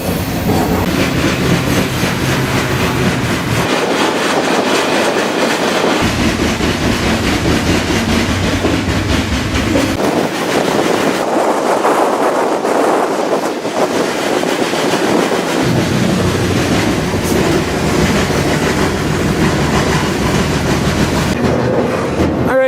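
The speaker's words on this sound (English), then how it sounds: "the grain train I was on" A grain freight train rolls along with steady clickety-clack from the wheels, loud and continuous, recorded while riding on it, mixed with rushing wind buffeting the microphone.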